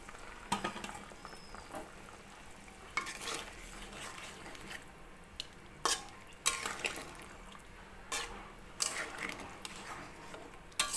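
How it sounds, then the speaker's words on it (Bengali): Fried puti fish going into a simmering potato curry in a pan: soft bubbling under scattered scrapes, clinks and patters of pieces dropping in, fairly quiet with irregular bursts. "এবার এর মধ্যে আমি দিয়ে দেব ভেজে রাখা পুঁটি মাছগুলো"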